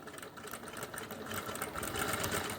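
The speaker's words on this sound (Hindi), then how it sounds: "बिल्कुल धीरे धीरे साथ साथ में इसकी सिलाई लगाओ ऐसे।" A sewing machine runs slowly and steadily, stitching a seam on ladies' pants with a continuous close mechanical hum.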